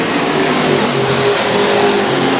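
Hobby stock race cars roar close by at Madera Speedway while battling for the lead out of turn two, a loud dense engine wash that stays steady for a couple of seconds.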